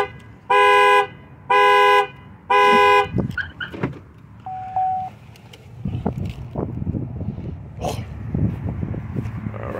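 A Chevy Malibu's aftermarket car alarm siren gives three loud, close horn-like blasts, then a short chirp and quieter rumbling handling noise.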